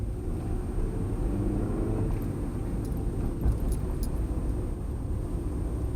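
A manual 2001 PT Cruiser engine accelerates through the gears, a continuous low rumble with steady road and cabin noise heard from inside the car, no talking over it.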